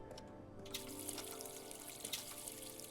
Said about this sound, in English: Don't ask me why I'm wasting water.